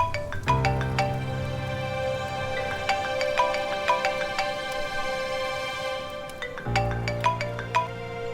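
Melodic phone ringtone rings on and on in a repeating pattern of bright chiming notes over a sustained low tone, steady and fairly loud, with a brief pause before the phrase starts again.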